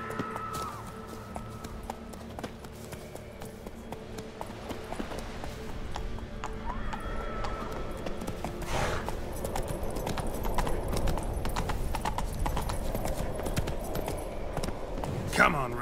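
Horse hooves clip-clopping in a fast gallop in The Witcher 3: Wild Hunt, a steady rhythmic pounding over game ambience, with a voice speaking at times.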